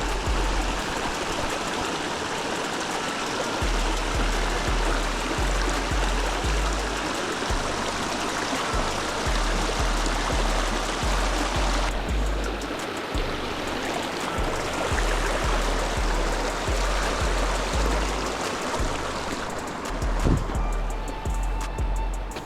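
Creek water rushes continuously at a trail crossing on the way to Cedar Creek Falls in Southern California, a loud, close, steady babble with a rhythmic low thumping underneath throughout.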